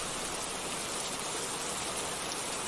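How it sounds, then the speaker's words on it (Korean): Rain sound from an audio library plays as a dense, steady hiss of falling rain, constant and even with no other sounds. "여기 빗소리 있죠?"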